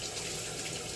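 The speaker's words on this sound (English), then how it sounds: "Just going to do a little rinsing." Water runs steadily from a kitchen tap as lime-covered hands are rinsed under it, a close, continuous gushing splash with no talk.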